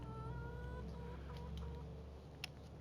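Faint chicken clucks from a chicken pen in an island survival building video game, soft repeated calls over a steady low background hum.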